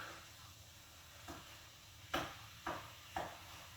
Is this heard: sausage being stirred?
yes